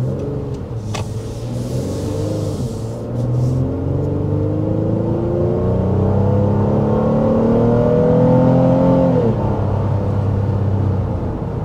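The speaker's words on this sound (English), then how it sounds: "So there's a little taste of acceleration as we went up that hill into this red light." A 2024 Honda Pilot accelerates hard up a hill, its engine note rising steadily in pitch through the gears as a loud, continuous drone heard from inside the cabin, with road rumble underneath and no talking.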